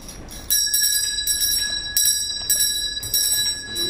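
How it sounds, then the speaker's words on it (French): A hand bell rung on stage in a Molière comedy, Le Malade Imaginaire, clanging in about five short bursts of rapid ringing, bright and close. "ma sonnette ne fait pas assez de bruit"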